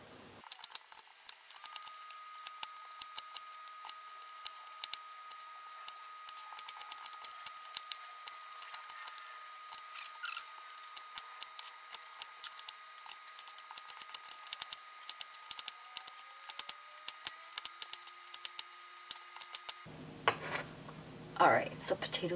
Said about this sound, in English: next we're gonna cut the potatoes into 1-inch cubes